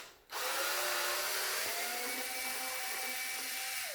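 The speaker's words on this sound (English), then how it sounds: "there's a lot of screws to take off, it appears." Power screwdriver whirring up to speed and running steadily while screws are backed out of a Hoover Sprint vacuum cleaner being taken apart, a close, loud, sustained whine with no talking.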